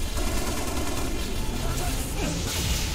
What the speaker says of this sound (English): Operating a very large caliber weapon.